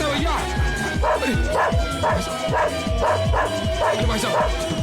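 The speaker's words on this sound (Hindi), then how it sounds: "अरे भैया, कुत्ते को रोको भैया।" A dog barking repeatedly and loudly at close range, yips and whimpering mixed in at a quick irregular pace, while someone speaks over it in a comedy movie scene.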